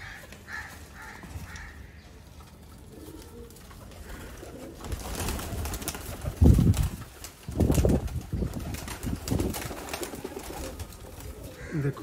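Pigeons calling in a loft or coop, soft cooing with occasional wing flaps and busier bird noise building midway, close and continuous with no speech.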